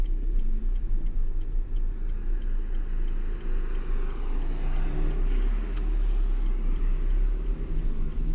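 A car's turn signal ticks in a steady, even rhythm over the engine's low hum and road noise inside the cabin.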